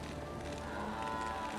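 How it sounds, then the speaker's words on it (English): Cows mooing in Diablo 2, a low, drawn-out lowing that holds steady for over a second at moderate volume behind a faint game background. "I don't remember there being cows either."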